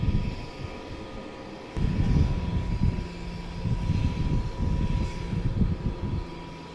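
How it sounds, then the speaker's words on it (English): Jetstream turboprop engine powering up close by, a steady low rumbling roar with a surge in loudness after a couple of seconds, continuous throughout with no talk. "there was a Jetstream aircraft just below me actually powering up"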